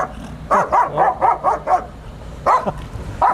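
A police K-9 dog shut inside a car barks in a rapid burst of five or six loud, close barks, pauses, then lets out two more barks, with no talking over it.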